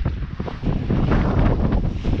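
Strong headwind buffets a sailboat motoring across a somewhat rough sea between Calvi and Bandol, a loud, steady roar of wind rushing over the microphone with no pause.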